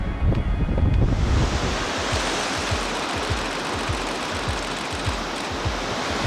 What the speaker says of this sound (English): We've got great sets of waves rolling in.